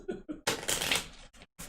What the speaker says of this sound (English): So I'm gonna shuffle these guys and we'll read the first off-road event,